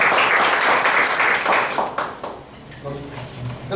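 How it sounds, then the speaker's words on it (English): Meeting audience gives a speaker a round of applause, a full burst of clapping that tapers off after about two seconds as a voice begins talking over the fading claps. "Let's give him a big round of applause for"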